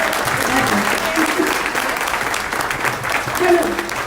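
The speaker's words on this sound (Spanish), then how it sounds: "Gloria, aquí no solamente no te ofendemos, te aplaudimos" An audience at a book presentation in Mexico applauds steadily and warmly, a dense wash of clapping with voices mixed in under it.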